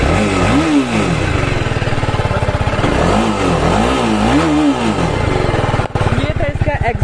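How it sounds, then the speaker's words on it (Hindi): A superbike's exhaust revs hard several times in a row, each blip rising and falling, loud and close, ending with a choppy idle. "थोड़ा सा रेव देते हैं और इसका चेक करते हैं इसका कितना आता है"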